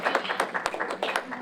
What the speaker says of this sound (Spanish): un aplauso a las compañeras